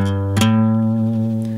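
Electric guitar picks a short blues rock phrase from the lower extension position, a sharp attack followed by sustained ringing notes and a second lighter pluck near the end, played alone and close.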